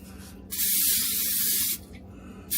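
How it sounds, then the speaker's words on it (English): One continuous burst of cooking oil aerosol spray onto a deep-dish pizza pan hisses close up for just over a second, then cuts off. "we're going to spray our pan"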